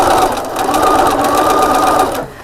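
A close, loud sewing machine back stitches a one-piece purse wallet in one steady burst of whirring stitching that stops near the end, with no talk.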